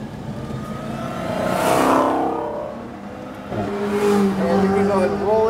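A Lamborghini Huracan on a race track at Homestead, engine note rising and falling as it lifts off and then rolls back onto the throttle, loud and close with wind and cabin noise.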